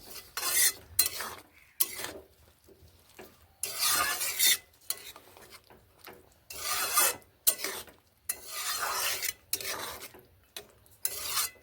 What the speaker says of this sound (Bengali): ঘি মিশিয়ে ভালোভাবে এইভাবে নেড়ে নিচ্ছি